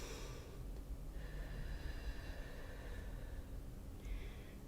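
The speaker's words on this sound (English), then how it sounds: "Breathe." Slow, audible breathing during a yoga pose, a long drawn exhale with a shorter breath toward the end, soft and close over a faint background hiss.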